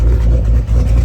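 Straight-piped, cammed Jeep SRT8 exhaust gives a loud, close, deep rumble that holds steady for about a second, with a brief dip partway through.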